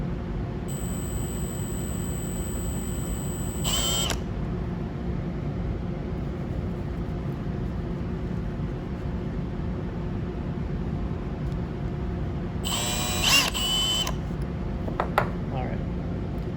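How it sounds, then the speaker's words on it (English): An electric drill whirs in two short bursts, one early and a longer one later, over a steady low background rumble. "I'll turn on the drill to go clockwise."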